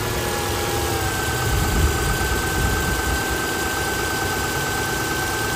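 A 2006 Subaru Outback's 2.5-liter engine idles under the open hood, a steady low rumble with a faint constant whine, close and even throughout with no talk.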